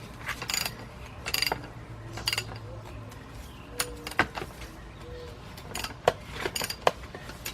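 A ratchet tightens a fitting on the 3.5-litre engine of a 2003 Nissan Maxima GLE during a partial rebuild, giving quick bursts of close metallic clicks separated by pauses, with clinks of tools and some quiet talk.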